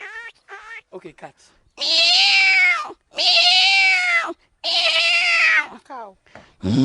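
A boy imitates a cat meowing with his voice, three long, drawn-out wavering meows, close and loud, framed by short breathy vocal sounds before and after.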